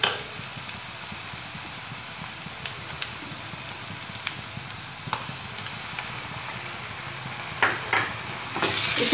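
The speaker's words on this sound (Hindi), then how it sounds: "अदरक लहसुन के पेस्ट को अच्छी तरह से फ्राई करें" Ginger garlic paste frying with dried shrimps in a pan, giving a steady, even sizzle throughout with a few faint scrapes of stirring near the end.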